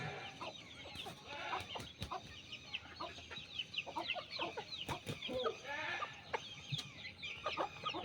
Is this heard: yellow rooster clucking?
yes